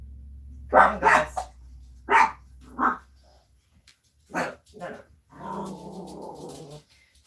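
Pet puppies bark and yelp in short excited bursts indoors, fairly close, with a person briefly speaking between barks.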